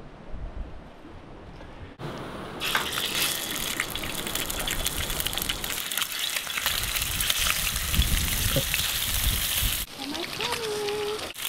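Food sears in an oiled frying pan with a loud, continuous hiss and crackle that swells and holds for several seconds, close and steady.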